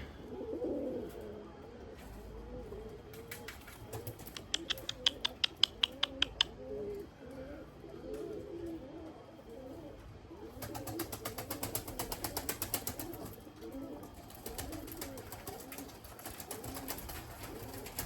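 Pigeons coo softly in a steady outdoor murmur, with bursts of rapid clicking and fluttering over a continuous background hum.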